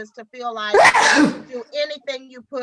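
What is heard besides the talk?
sneeze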